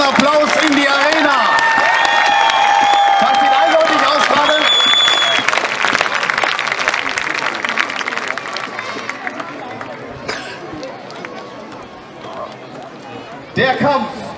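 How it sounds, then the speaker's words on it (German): Arena crowd at a gladiator show roaring with applause and cheering, loud and sustained at first, then thinning out while someone talks over the fading noise. "schicken Sie uns noch mal Ihren großen Applaus in die Arena"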